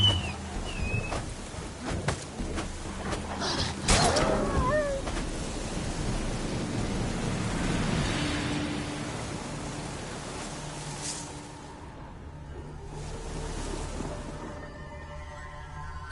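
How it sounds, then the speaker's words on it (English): Stormy weather in The Witcher 3, with steady rain hissing throughout and low rumbling thunder rolling beneath, plus a few faint brief calls early on; the downpour thins slightly near the end. "A storm, damn it."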